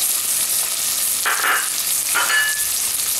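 Ginger frying in hot oil in a pot for white mutton stew, a continuous close hiss of sizzling with two brief louder bursts as it is stirred, no voices.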